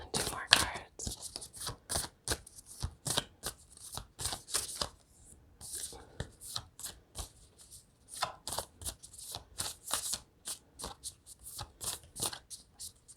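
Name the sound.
shuffling cards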